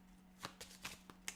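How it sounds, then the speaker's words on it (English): A deck of playing cards is shuffled during a tabletop game, giving several quick riffling bursts at a quiet level with no talk. "So we shuffle up"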